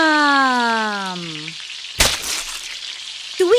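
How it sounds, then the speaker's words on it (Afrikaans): Fat sausages frying in a hot pan of oil, a crackling sizzle that opens beneath a sung, swooping tone, then grows into a sharp burst of spattering hiss. "3 vet worsies braai in die pan."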